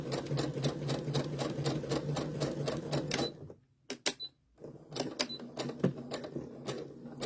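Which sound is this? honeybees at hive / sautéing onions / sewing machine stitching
sewing machine stitching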